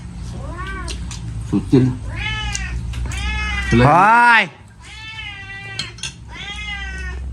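A cat meows repeatedly nearby, with several drawn-out cries and one loud, rising wail, while a person speaks briefly between the calls and dishes clink faintly in the background.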